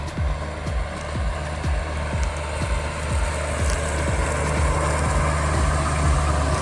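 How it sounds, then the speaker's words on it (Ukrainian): A 105 hp tractor pulls an Amazone Catros 3001 disc harrow across a field, a loud, steady diesel rumble with a regular low thumping pulse running throughout. "Ось так 105 кінських сил працює з цією дисковою бороною"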